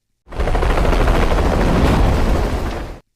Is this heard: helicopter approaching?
yes